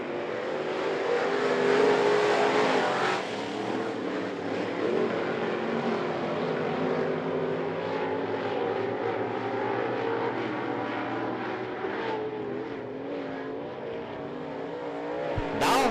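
Crate late model race cars at a dirt track heat race start, a loud sustained roar of several engines accelerating together, steady throughout with no talk.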